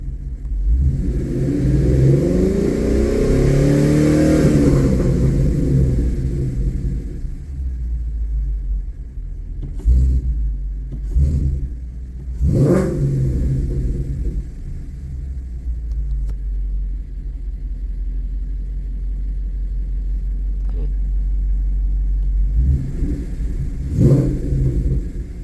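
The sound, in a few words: car engine revving at wide open throttle during test drive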